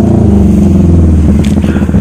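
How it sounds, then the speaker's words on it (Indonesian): A noisy automatic scooter-style motorbike engine runs loud and close with a rough, uneven rattle and clattering from a fault, sustained throughout with no voices. "Motor berisik."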